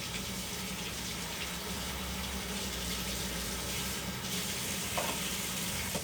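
A bowl being rinsed under a running tap in a home kitchen after whipping meringue, a steady broad wash of flowing water with faint clinks, continuous and close for the whole stretch.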